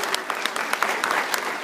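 Classroom applause for newly introduced teaching assistants, a brief round of clapping from a group of students with individual claps standing out in an uneven rhythm.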